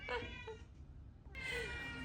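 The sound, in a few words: cat meowing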